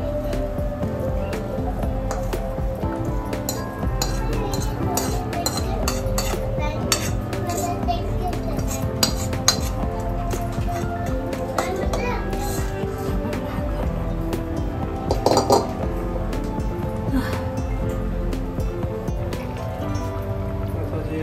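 Khoa being mixed into carrot halwa in a pan on low heat, a continuous close clatter of spoon scraping and knocking against metal, with a few sharper clinks and faint voices in the background.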